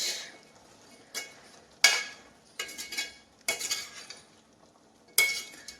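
A spoon stirs a fenugreek, pea and potato curry with salt in a pan, giving a series of separate scraping strokes and light metallic clinks, close up, with quiet pauses between.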